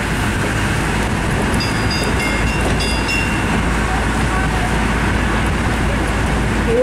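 A small tourist train ride in Ireland gives a steady loud road-train rumble with engine drone and rattling, continuous throughout, with faint chime-like tones early on.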